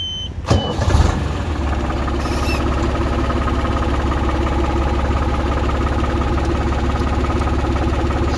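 A 2014 New Holland TT55 tractor engine cranks and catches, then settles into a steady, loud diesel idle with a continuous low rumble, close by and with no talk.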